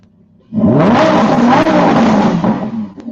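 A sports car engine revs hard and loud, rising and roaring for a couple of seconds before easing off, close by with no talking.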